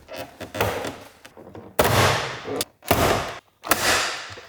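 Several sharp plastic pops and cracks as door panel clips release on a SEAT Ateca, each followed by rattling and scraping as the panel is pried loose, loud and close with brief gaps.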